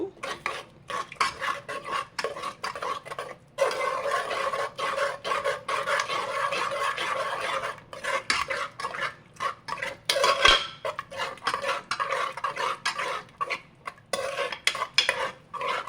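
A spoon stirs thick curd into masala in a cooking pan over low heat for a drumstick pulao, scraping and clinking against the metal in steady, close strokes with a faint sizzle, and no one speaks.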